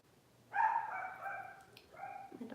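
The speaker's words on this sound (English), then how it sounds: "My dogs are so cute." A dog gives one sharp, close bark in a quiet indoor room, followed by softer, shorter yips and whimpering sounds over the next two seconds.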